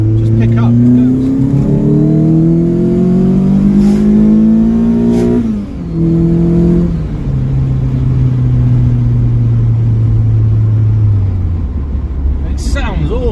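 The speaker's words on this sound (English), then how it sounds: "Second gear out to red line." A classic car engine revs hard up to the red line in second gear, its rising engine note climbing steadily, dipping at the gear change and then holding a steady drone, loud and close throughout.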